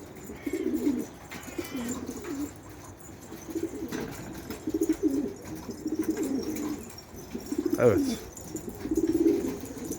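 Young pigeons cooing excitedly in a loft, repeated low throaty coos in short bursts close by, with a brief rustle of movement and no talk.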